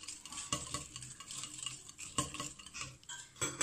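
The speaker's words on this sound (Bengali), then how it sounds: "এরপরে 1টা হ্যান্ড হুইস্ক দিয়ে এগুলোকে যতক্ষণ মিহি একদম মিক্স না হবে ততক্ষণ নাড়ব।" A hand whisk beats egg with jaggery in a bowl, giving quick, close metallic clinks and scraping stir sounds against the dish in an uneven rhythm.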